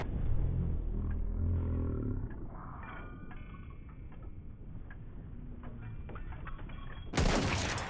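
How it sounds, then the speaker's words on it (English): Machine gun fire crackles in a rapid, dense rattle during a Battlefield 1 match, mixed with rumbling battle noise, before a louder burst cuts in near the end. "Machine gun! Hostile!"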